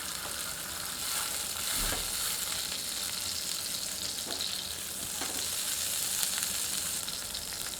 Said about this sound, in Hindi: चिकन मिंस की टिक्की बनाकर उसे इस तेल में 5 मिनट मीडियम आंच पर ग्रिल